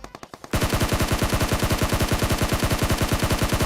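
Rapid automatic gunfire in a mobile battle-royale shooter game, a few spaced shots then a loud, steady burst of evenly repeating rounds close by, with no talking.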